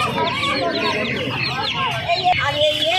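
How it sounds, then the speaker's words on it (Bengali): Dense, continuous clucking and peeping from many caged layer hen chicks at a busy poultry market, loud and close with overlapping calls and crowd murmur underneath. "এখানে দেখতে পাচ্ছ লেয়ার মুরগির বাচ্চা রয়েছে প্রচুর"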